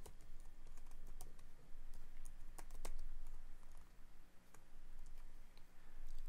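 Code is typed on a computer keyboard in short, irregular bursts of close, crisp key clicks over a faint steady background hum, with no talking.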